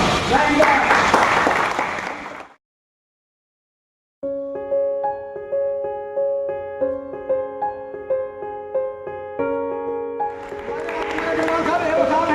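Applause from a gathered audience at a thanks-giving party for municipal RMR workers, a dense burst of clapping at the start, then a pause and tonal music, with the clapping returning loud near the end.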